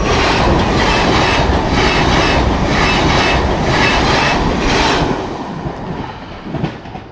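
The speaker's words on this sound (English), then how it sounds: "And there was a train." A loud train rumbles steadily past with rhythmic clatter of wheels, heard on a bike ride between Irlam and Astley, then fades away over the last couple of seconds.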